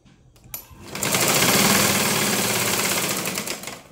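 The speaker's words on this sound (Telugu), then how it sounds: "ఇప్పుడు దీని పైనుంచి కుట్టేసుకోవాలి." Sewing machine stitching a blouse, starting with a couple of soft taps before running up into a fast, steady mechanical whirr that holds and slowly eases off, close and alone.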